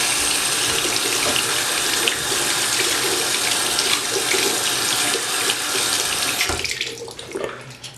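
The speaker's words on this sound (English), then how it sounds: "you're going to want to run them under the water." Tap water gushes steadily from a faucet over skateboard bearings in a sink, a loud continuous splashing rush that thins and breaks up near the end.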